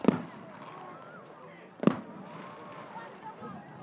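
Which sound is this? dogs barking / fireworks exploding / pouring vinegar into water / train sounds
fireworks exploding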